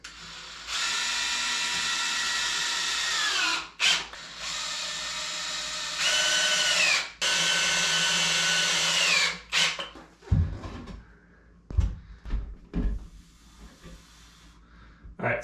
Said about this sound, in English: I'm gonna start my screws on a solid piece